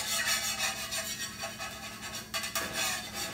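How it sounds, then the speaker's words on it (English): A metal pancake turner scrapes across a skillet during deglazing, a continuous rough rasping with a few sharper strokes, close and fairly loud with no talking. "I deglaze it first. Kind of run my pancake turner all through it."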